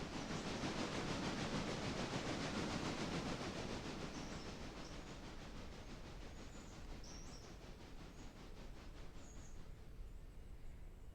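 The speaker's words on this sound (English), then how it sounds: "our passenger train's starting to slow down" A passenger train in the Railroader game slows down, with a steady rumbling roll and faint rhythmic wheel clatter that eases gradually, and a few soft high squeals near the end.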